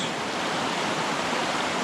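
Rushing stream water at a river crossing on a New Hampshire hiking trail, a steady, loud broadband wash of flowing water filling the whole moment with no voices.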